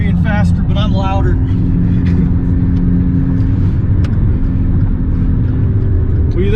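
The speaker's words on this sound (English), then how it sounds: "My car's louder than yours." A loud car engine runs steadily throughout, its low droning rumble rising slightly in pitch near the end, with people talking over it.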